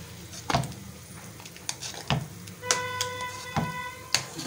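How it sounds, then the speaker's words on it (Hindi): Boiled vegetables for Mumbai-style pav bhaji are mashed into a puree in a pan, with three dull, heavy thumps, light scraping and a brief metallic ring, close up and with no speech. "इसको बिल्कुल अच्छी तरह से मैश करना है बिल्कुल।"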